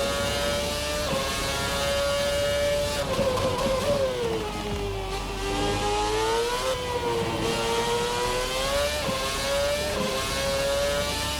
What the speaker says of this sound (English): Very nearly on the rev limiter there at the end of the hanger straight